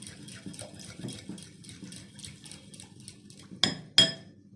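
A spoon clinks against a bowl in a steady run of light taps while olive oil is stirred into a pizza batter mixture, with two sharper, louder clinks near the end.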